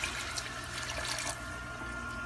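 Marsala wine poured from the bottle into the centre of a pan, a close, continuous liquid splash and gurgle that eases off slightly near the end, no voices.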